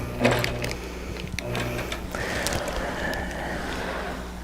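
A sewing machine stitching a quilt runs in a steady mechanical hum and rattle, with a brief clack near the start and a short pause before it keeps going close by.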